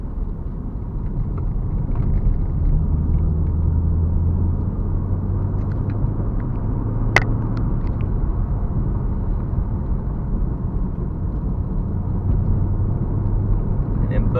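A 6-speed manual Chevrolet Camaro SS cruises around a corner, its engine a steady low rumble that holds close and even throughout, with no one talking over it.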